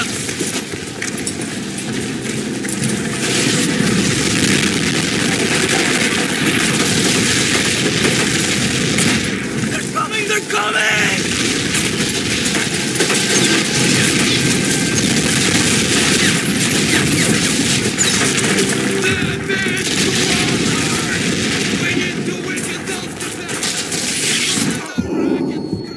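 Sustained automatic gunfire and rapid rifle bursts roar through a trench battle in Medal of Honor: European Assault, dense and loud with distant booms layered underneath, continuing without pause across the whole stretch.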